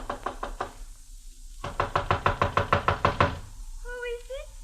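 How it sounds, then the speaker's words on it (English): Knocking on a houseboat door as a radio drama sound effect, a few quick raps and then a steady run of about a dozen firm knocks, close and crisp, followed by a brief vocal sound. "knocked at the door"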